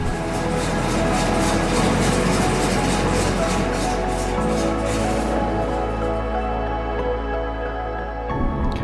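A Daimler DS420 classic car with twin exhausts idles while warming up from cold, a steady, loud, low rumbling drone with a constant hum that shifts slightly partway through.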